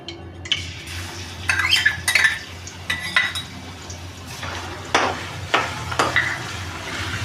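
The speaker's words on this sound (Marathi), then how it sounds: "आता आपलं तेल तापलेलं आहे आता आपण त्याच्यामध्ये लसूण घालून घेऊया" Garlic frying in hot oil in a pan, with a soft sizzle under sharp metallic clinks and scrapes of a utensil against the pan, coming in irregular bursts.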